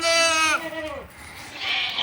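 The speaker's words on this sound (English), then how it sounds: "little baby goat" A baby goat lets out a high, wavering bleat close by, lasting about a second before fading into quiet outdoor background.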